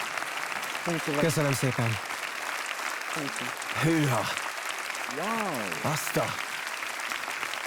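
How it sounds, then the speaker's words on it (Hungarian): A jury gives a standing ovation at a televised virtuoso music competition final, with loud, sustained applause throughout while a host and a performer talk over it. "Az első állótaps."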